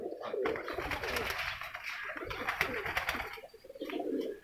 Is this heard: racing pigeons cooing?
yes